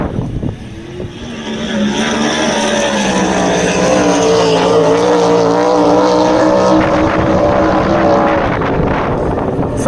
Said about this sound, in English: this engine's essentially a sprint car motor